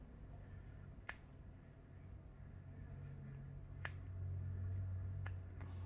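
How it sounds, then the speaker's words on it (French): Scissors snip elastic thread three times, each a brief faint click spaced a few seconds apart over a quiet low hum in a still room. "je coupe à l'extrémité ce qui relie cette petite trame élastique"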